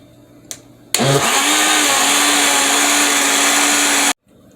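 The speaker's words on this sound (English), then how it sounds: "the red peppers in a blender" A blender roars to life after a click, blending boiled red peppers, running loud and steady for about three seconds with a whirring motor pitch before cutting off abruptly.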